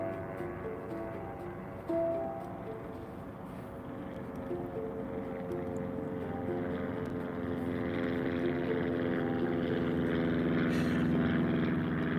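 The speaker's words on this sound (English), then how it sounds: "You won't be able to hear me anyways because this plane's so loud." A propeller airplane drones loudly overhead, a steady low rumbling hum with layered engine tones that swells slightly as it passes close.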